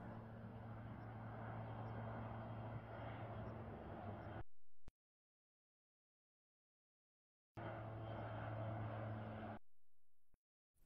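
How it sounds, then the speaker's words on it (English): A crop-spraying plane flies back and forth near the Gaza border. Its engine makes a steady, fairly loud drone with a low hum, cut off abruptly by two silent gaps. "The plane covers the area that is set to be fumigated by taking linear paths and going back and forth."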